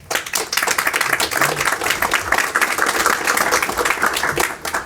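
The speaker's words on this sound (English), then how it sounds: "Can we give a round of applause for Ondřej?" Conference audience applauding a speaker after a PHP talk on custom PHPStan rules, a dense sustained burst of many hands clapping in a hall, loud and continuous for several seconds.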